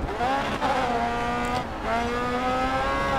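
An open-wheel race car in Grid Autosport gives a loud, steady high-pitched engine whine with harmonic gear shifts and a brief dip as it revs and changes gear.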